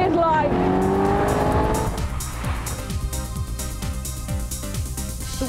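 A Westfield sports car accelerates hard, its engine note sweeping upward and then settling into a rapid, rhythmic pulsing as it pulls through the gears, loud and close throughout.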